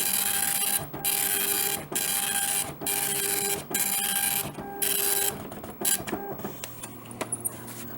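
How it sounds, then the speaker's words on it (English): A DEC LA50 dot-matrix printer prints in loud, buzzing line-long bursts separated by short pauses as the head returns, ending with choppier feed noises close by. "there we go, printing away like crazy."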